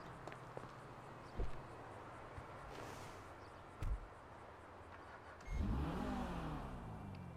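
A Pfister Growler sports car in GTA 5 Online revs in short bursts, two brief blips followed by a longer, rising rev that holds, over a quiet background.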